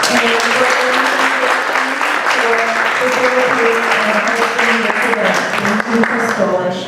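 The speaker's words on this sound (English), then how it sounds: "I'd like to also have a big round of applause for Crystal Aston" Community forum audience applauding loudly and continuously, with a speaker's voice carrying over the clapping throughout.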